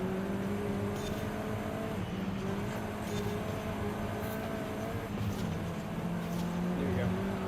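Racing car engine on gravel in Forza Horizon, a steady loud droning hum with slight pitch shifts as throttle is feathered, continuous throughout with faint tyre and gravel noise.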